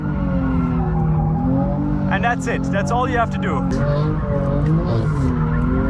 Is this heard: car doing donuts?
yes